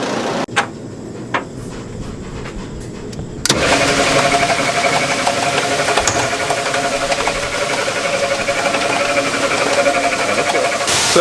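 Grain dryer machinery switches on abruptly after a few quiet seconds, a steady loud mechanical roar with rattling as soybeans dump into the leg, continuing unbroken to the end.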